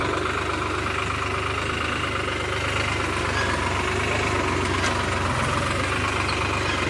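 A farm tractor's diesel engine idles steadily, a dense, even rumble with a fine knocking texture, constant and close, with no talk over it.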